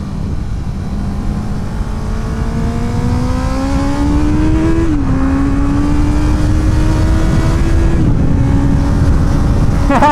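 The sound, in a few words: Honda CB650R motorcycle engine downshifting on track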